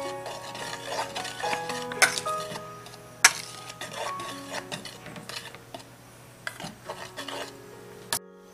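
Spoon or whisk working eggless banana cake batter with sugar and melted butter in a big bowl, soft scraping and stirring with scattered clinks against the bowl, close and fairly quiet with no talk.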